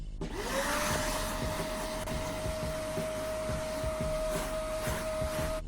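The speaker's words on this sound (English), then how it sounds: "So what I'm going to do now is just get a hoover on there" A vacuum cleaner hoovers dirt off the carpet of an Alfa Romeo Giulietta, its motor spinning up quickly to a loud, steady whine with a whooshing roar that carries on unbroken, close by and with no talk.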